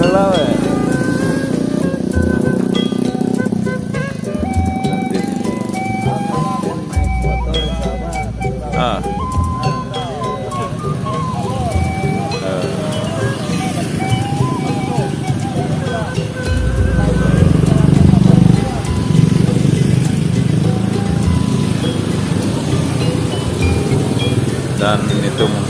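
Motorcycle carrying a bride in a Sundanese wedding procession, engine rumbling low under crowd chatter and street noise, swelling twice as it passes nearby, with a man briefly exclaiming.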